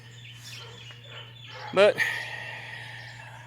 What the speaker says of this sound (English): the rooster, he's trying to get in on the show.